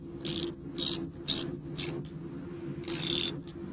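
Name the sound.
retightening a split bolt connector on electric fence wire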